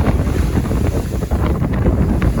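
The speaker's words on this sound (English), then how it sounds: "Still windy as hell." Strong gusting wind roars across a boat on the ocean during a storm, a loud continuous buffeting rush over the microphone with waves churning underneath.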